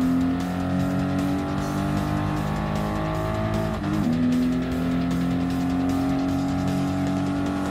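Race car from Gran Turismo Sport, in a custom GT1-style race on the final lap, drones continuously at high revs with a steady engine tone, a brief dip and shift near the middle, and a hint of tire noise, loud and alone.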